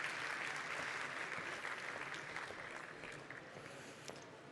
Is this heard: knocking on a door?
no